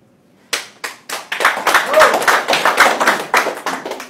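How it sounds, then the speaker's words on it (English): An audience at a direct selling business talk bursts into applause, starting with a few sharp separate claps and swelling into dense, loud clapping from many hands that carries on steadily. "Are you giving the clap for this guy or for the industry?"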